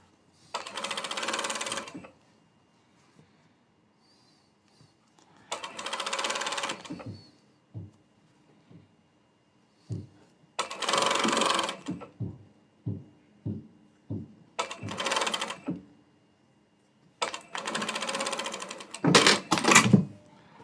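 A sewing machine stitching a seam runs in five separate bursts of rapid whirring, with quiet gaps between them holding small clicks and taps as the fabric is handled.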